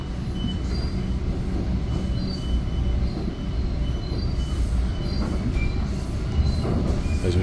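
Inside an Exo commuter train on the Candiac Line near Montreal, a steady rumbling roar of wheels and carriage fills the space, with faint squeals and rattles as the train picks up speed.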